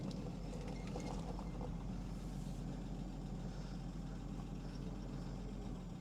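A 1959 Chevy Biscayne, left sitting for 20 years, idles with a steady low rumble throughout, close and continuous, with faint clunks as it is shifted between gears.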